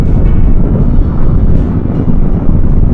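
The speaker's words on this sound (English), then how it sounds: "I am getting a bit of wind on the top of my helmet" Wind roars across a helmet on a BMW R18 bagger cruiser riding in fifth gear at about 100 km/h, a loud, constant buffeting rush that fills the whole stretch.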